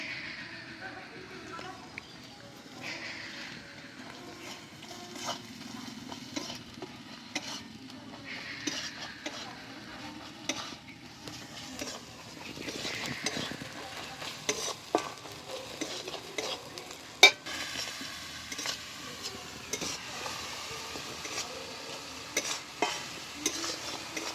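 A spice paste for a Bengali fish head curry (katla kalia) is fried and stirred in oil, giving a soft steady sizzle broken by frequent scraping and clinking of a spatula against the pan, close up.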